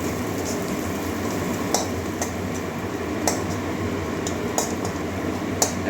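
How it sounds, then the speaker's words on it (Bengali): Ground cumin fries in a pan as part of a spiced curry base, giving a steady, soft sizzle with occasional light spatters and clinks, close and continuous at a moderate level. "এক চামচ মতো জিরে গুঁড়ো এক চামচ একটু ভেজে নিচ্ছি"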